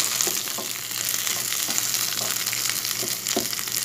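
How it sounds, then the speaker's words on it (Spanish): Onion, garlic and chile sauté in a pan, a steady close sizzle with faint scraping stirs now and then. "entonces agregaremos el chile. Estamos sofriendo acá,"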